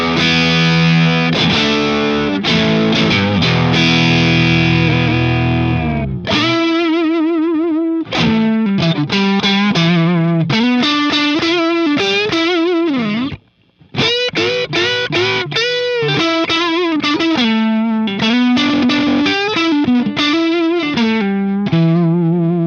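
Electric guitar played through a Friedman IR-X with the boost cranked, loud and heavily distorted, with sustained chords followed by rapid, articulated riffs and lead lines and one brief pause.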